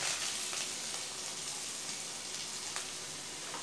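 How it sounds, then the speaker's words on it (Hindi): Onions frying on low heat after ginger and green chillies in a pan for paneer butter masala, a soft, steady sizzle with faint crackles and occasional stirring ticks. "प्याज को भी हम सिम पर लगातार चलाते हुए 1-2 मिनट भून लेंगे"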